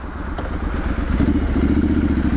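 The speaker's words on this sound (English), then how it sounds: "Well, I thought I'd see how annoying this this exhaust is" Triumph Street Scrambler motorcycle idling and blipping its exhaust in a narrow town street between high buildings, a loud close low rumble that rises briefly, with some clatter, no talk.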